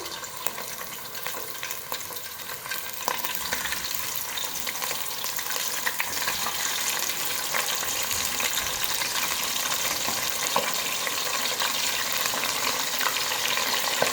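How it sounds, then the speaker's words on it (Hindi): Fish pieces frying in hot oil over a medium flame, a steady close sizzle and crackle running the whole way without a break, with no talking. "फ़िश फ्राई करना स्टार्ट करते हैं। ऑयल हमारा गर्म हो चुका हुआ है। एक एक करके पीस ऐड करते जाएंगे।"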